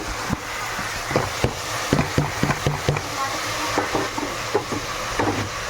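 Tomatoes sautéing in a pan for mutton biryani: a steady close sizzle broken by frequent sharp clinks and scrapes of a spoon stirring against the pan.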